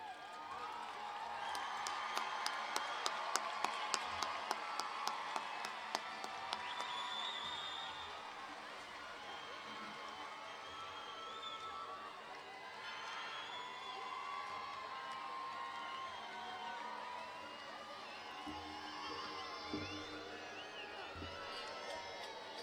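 High school graduation crowd of seniors cheering, whooping and clapping loudly for their families, a rush of applause and shouts that settles into a lingering murmur of voices.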